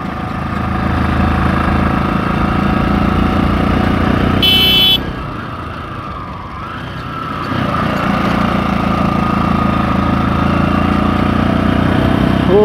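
A motorcycle in worn condition drones steadily while riding at about 30 to 40 km/h, easing off briefly midway before the engine note climbs back to a loud, continuous hum.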